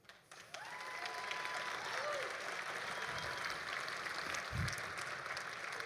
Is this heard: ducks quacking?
no